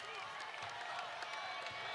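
A crowd cheers and applauds at the State Farm Center during a Northwestern at Illinois Big Ten women's basketball game. The roar and clapping stay steady and fairly distant, with a commentator's voice running over it.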